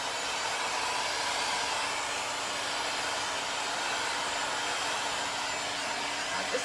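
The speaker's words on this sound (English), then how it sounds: "You guys know how much I love my heat gun." A heat gun blows hot air over a crackle-finish coating with a steady, close, loud whoosh that holds an even level throughout, with no voice heard.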